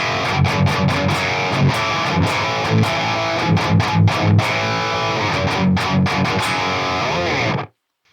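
Heavy distorted metal guitar through a Fredman Fredhead amp sim, loud and dense with palm-muted chugs and choppy stabs, played alone and stopping abruptly near the end.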